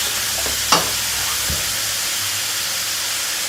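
Meat browns in a pan over medium-high heat, a loud, even hiss of sizzling fat throughout, broken by a sharp utensil scrape early on and a soft knock a moment later.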